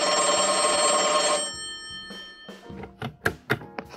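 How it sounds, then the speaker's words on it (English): An old-style telephone bell rings loudly in a sustained trill, then stops, followed by a few sharp handling clunks and taps close by. "and the phone rings."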